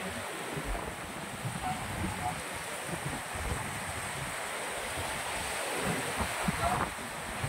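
Strong wind buffeting the microphone over a constant wash of ocean surf at a beach resort, loud and unbroken throughout.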